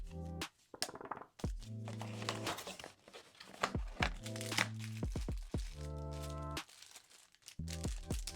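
Packaging crinkles and crackles as an Epomaker G84 HE magnetic-switch gaming keyboard is unboxed, with close, uneven bursts of rustling, sharp cracks and dull thunks separated by brief pauses.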